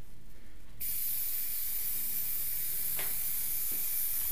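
Plasti-Dip rubber coating sprayed from an aerosol can onto an Audi A3 for a first coat, a steady continuous hiss close by that runs unbroken throughout, with no talking.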